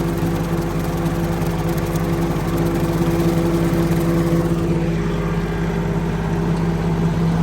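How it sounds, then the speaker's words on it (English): A tractor-driven brush hog mows along a fence line to hold a burn line, its engine a loud, steady drone with a constant low hum from start to end. "I'm mowing right across the fence line here so it doesn't jump across the burn line"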